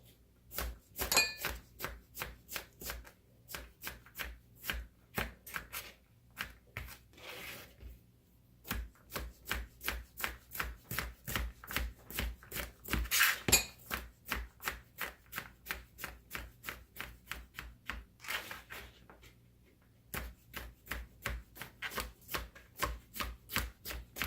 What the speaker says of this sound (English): So I'm doing like small dices, not mince, not medium dices, but small dices.